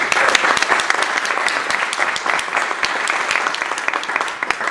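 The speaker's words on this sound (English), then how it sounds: "So may I request you to give a round of applause before you begin." An audience gives a round of applause. The clapping is dense and steady, close and fairly loud, with no other sound over it.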